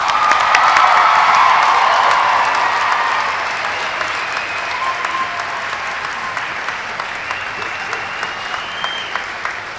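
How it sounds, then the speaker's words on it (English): A large crowd at a commencement ceremony applauds graduates in a sustained round of clapping, loud at first and gradually thinning out. "Let's give our graduates another well-deserved round of applause."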